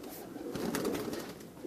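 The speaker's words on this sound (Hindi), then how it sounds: "ये हमारे यहाँ के सहारनपुर के फेमस कबूतर हैं" Saharanpuri pigeons of the Guldar Shadmi breed coo softly with low, throaty murmurs, several birds close by, steady and moderately loud without talk.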